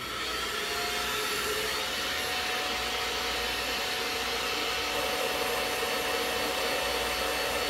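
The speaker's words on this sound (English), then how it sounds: "I'm going to put my blow dryer on medium heat on high." A blow dryer set to medium heat on high speed roars in a steady, loud, close hiss for the whole stretch, used while straightening natural hair, the tone shifting slightly partway through as it moves, and no talk.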